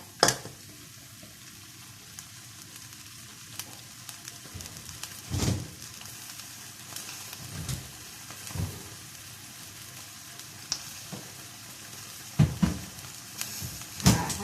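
Surf clams sizzle as they stir-fry with chili paste in a pan, a continuous close crackle broken by irregular clanks and scrapes of the spatula against the metal.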